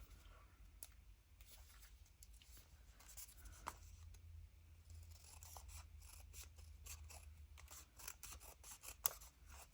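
Scissors trimming paper for a craft journal page: a quick run of crisp snips and slicing scrapes, close and fairly quiet, with a louder snip near the end and no talk.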